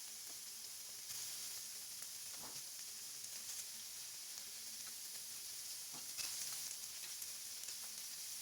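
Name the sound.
thinly sliced pork belly frying in a pan with garlic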